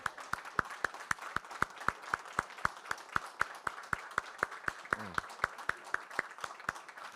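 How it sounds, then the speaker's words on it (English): Sparse, evenly paced clapping at a board meeting for a community outreach group: a few hands beating out a steady rhythm, fairly faint and roomy, with a brief voice partway through. "A big round of applause for our friends from Cliffs Residents Outreach."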